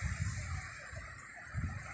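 Low, soft surges of ocean water wash onto an early morning beach, a faint rolling rush that swells in a few slow pulses.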